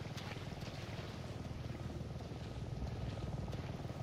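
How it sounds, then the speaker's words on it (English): Helicopter flying in the video game Resident Evil 7, a steady rapid rotor chop with engine drone, fairly faint and continuous, no talk. "Oh, I hear a chopper."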